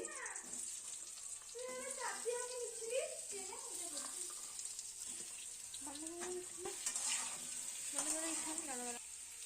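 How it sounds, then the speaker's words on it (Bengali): Potatoes frying in a pan at home: a soft, low sizzle runs steadily underneath, partly covered by a person talking over it for most of the time. "এদিকে আলুগুলো ভেজে নিচ্ছি"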